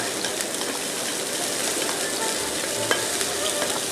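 Tri-colour bell peppers stir-fried with oyster sauce sizzle steadily in a hot pan, a dense continuous hiss with occasional scraping of the spatula, close up and with no one talking.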